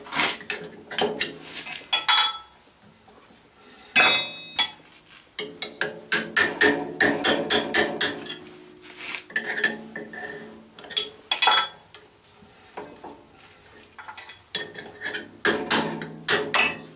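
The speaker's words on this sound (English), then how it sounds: "maybe a little hammer to tap it" Repeated sharp metallic hammer taps on a metal punch during a small welding project, coming in quick bursts separated by short pauses, close and fairly loud.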